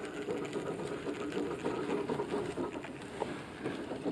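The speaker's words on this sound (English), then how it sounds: "let's get this line on the reel" Mono fishing line, 12-pound Omniflex, winds onto a budget baitcaster reel with a steady, soft whirring and fine ticking, close and quiet with no voices.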